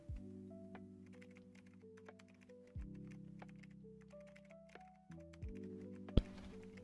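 A computer keyboard is tapped in a video game, rapid scattered keystrokes clicking along over steady sustained background music, fairly faint, ending with a sharper tap.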